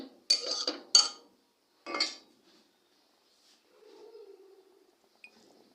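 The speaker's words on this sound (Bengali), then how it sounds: "চুলায় কড়াই বসিয়ে দিয়েছি" A metal wok set on a home stove for cooking dal, heard as several sharp clanks and clatters of pans close by, then a soft scraping and quiet.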